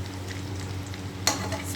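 Bora fritters fry slowly in oil over low heat, giving a soft and steady sizzle close by, with one sharp clink of a utensil partway through and lighter stirring sounds after it.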